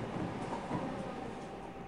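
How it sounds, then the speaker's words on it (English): A train rumbles steadily as it pulls into its final stop, a quiet, continuous low rolling noise with faint clatter and no voices. "It seemed the train had reached its final stop."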